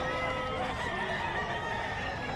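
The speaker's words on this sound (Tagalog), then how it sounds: "Yan na lang yung mga natira na manok ni Boss Rem." Chickens clucking and crowing amid the busy hum of the Bocaue pet market, a dense noisy crowd background with birds calling throughout, fairly distant and mixed into the ambient din.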